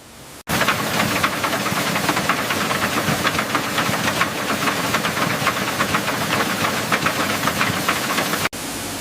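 High-pressure water wash running steadily in a rough, old-school banana blossom processing factory, a loud continuous hissing spray with a rapid mechanical pulsing beneath it, starting abruptly and cutting off near the end.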